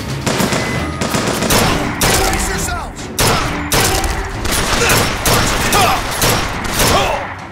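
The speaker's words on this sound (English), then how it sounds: "I've just been shooting at nothing" Dense rapid gunfire in Bioshock Infinite on hard difficulty, with bursts of automatic fire and booming shots running continuously for several seconds, loud and close, with some game voice underneath.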